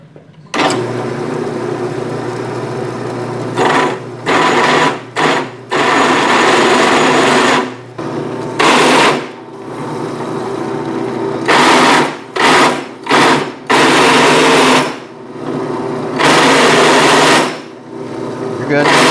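Drill press boring axle clearance holes for a robot drivetrain rail, a loud, close, chattery whine that cuts in and out in repeated bursts with brief pauses between them.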